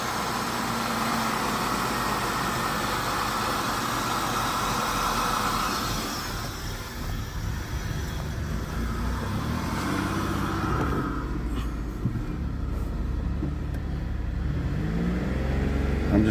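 Buick LeSabre engine running unevenly and bucking after new spark plug wires, a loud, steady mid-range drone with surging and dips in pitch, heard close with no talk.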